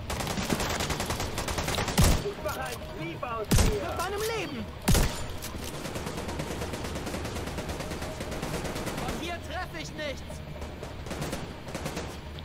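Bursts of rapid gunfire and heavy single shots in The Division 2 shooter game ring out over a dense, busy combat soundscape, with a few loud impacts standing out and someone talking throughout.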